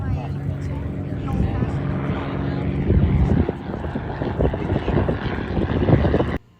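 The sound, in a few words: Fairchild Cornell propeller aircraft flying at airshow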